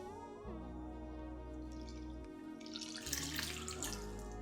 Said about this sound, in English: Last to that, we're going to add 3/4 cup of warm water.